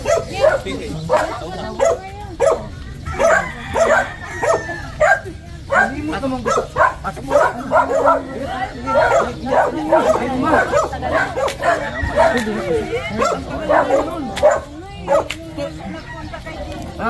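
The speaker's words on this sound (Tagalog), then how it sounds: "Tahimikin yung aso." A dog barks and yips repeatedly nearby while people talk over it, the barking coming in short bursts throughout.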